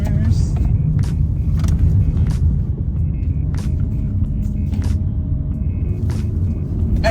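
2022 Honda HR-V small SUV cornering on the road, a steady low cabin rumble of engine and tires with faint ticking, while a person talks over it.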